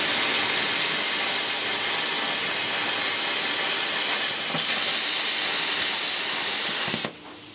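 An R-Tech P51D plasma cutter slicing through 3mm aluminium alloy scrap plate gives a steady, loud, hissing roar that holds for about seven seconds before cutting off abruptly.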